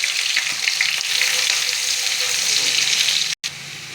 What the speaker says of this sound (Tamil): பொடியாக நறுக்கின வெங்காயம் 2.